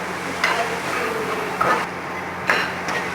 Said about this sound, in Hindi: और साथ में डाल देते हैं मटर, और इसको थोड़ा सा और सौते करेंगे।